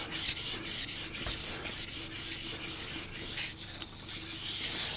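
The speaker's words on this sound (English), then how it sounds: "going over with a finer sandpaper like this does get rid of, more of the unsightly, deeper scratches from the 600 grit" An antique blue glass jar being sanded with fine sandpaper, a close, continuous rhythmic rasping of quick back-and-forth strokes throughout, with no talking over a low steady hum.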